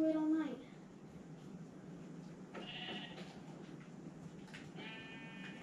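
Sheep in Minecraft bleat several times, with short wavering cries spread across the clip at moderate volume over a soft, noisy background.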